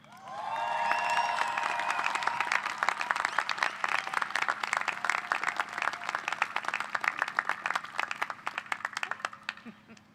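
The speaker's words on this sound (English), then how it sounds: "I think we just keep applauding her until she makes it up to the front of the stage." A commencement audience at Trinity College's 198th ceremony breaks into sustained applause. Dense, loud clapping builds quickly and holds, then thins into scattered separate claps. A voice is briefly heard at the start.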